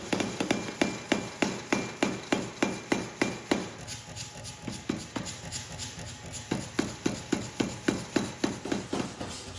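Hammer blows forge hot bearing steel, drawn out on the edge of the dies into a dao sword blank, in a steady, even rhythm of sharp metallic strikes, close and fairly loud, about two to three per second.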